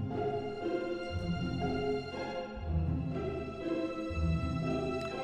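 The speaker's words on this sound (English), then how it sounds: "Let's hear the strings alone." Orchestral strings playing alone in an Enchanted Forest patch from Hollywood Orchestrator, with plucked pizzicato figures and light sul tasto bowing, moderately quiet with steady rhythmic low notes and no talking.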